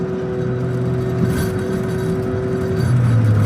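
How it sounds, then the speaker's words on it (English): Autozam AZ-1 kei sports car driving to get gas, with a steady engine drone and road hum throughout, a slight rise in engine tone near the end, no voices. "So we're in the AZ1 driving it over to go get gas."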